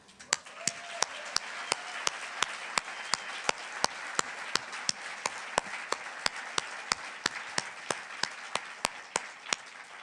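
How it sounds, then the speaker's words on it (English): An audience applauds at a public forum for the stage play "for colored girls," honouring its absent author Ntozake Shange. A soft wash of clapping continues for ten seconds, with sharp, evenly spaced claps ticking through it. "I know she's not here, but we can still applaud her."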